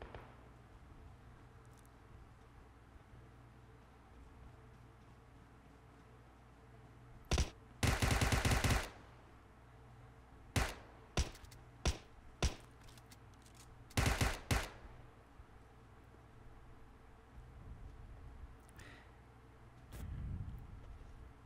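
Bursts of automatic gunfire in PUBG Mobile ring out intermittently, a long rattling volley followed by several sharp single shots and another burst, over a quiet background hum.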